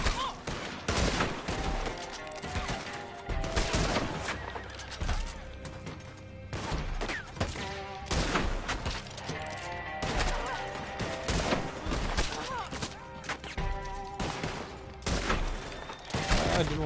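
Dense, loud gunfire in Red Dead Redemption, a sustained volley of overlapping shots and cracks with brief lulls, continuing for many seconds.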